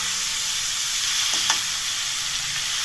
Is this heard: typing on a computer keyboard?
no